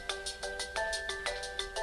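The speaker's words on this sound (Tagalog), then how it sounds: "Itay pa lang nga gununi ti cellphone ko." A cellphone ringtone plays alone, a rapid repeating electronic melody of short bright beeps pulsing steadily at a close, moderate level.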